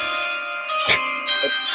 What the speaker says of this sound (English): We're getting the chimes in there